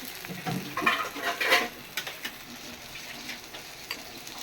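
Dosa batter spread on a hot griddle crackles with a soft, close sizzle, marked by light scraping bursts early on that settle into a quieter, steady frying hiss.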